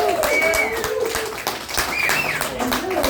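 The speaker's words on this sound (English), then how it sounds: "Let's give a big round of applause to Charlie Foxtrot." A bar audience at a stand-up comedy show for veterans gives a big round of applause. The steady clapping has voices and whoops rising over it.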